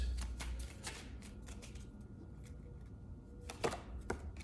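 A deck of tarot cards is shuffled close by, giving quick papery riffles and soft taps at a low volume.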